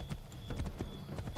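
Horse hooves clip-clop at a quick, even trot in the video game Assassin's Creed 3, close and clear, with a faint steady tone beneath and no speech.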